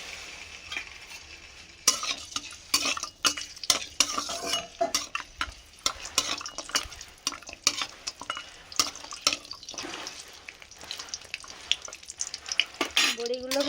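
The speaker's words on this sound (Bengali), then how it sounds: "প্রথমে বড়িগুলো ভেজে নেব।" Lentil dumplings (bori) frying in white oil in a wok, with a continuous close sizzle and many quick metallic clinks and scrapes of a spatula turning them.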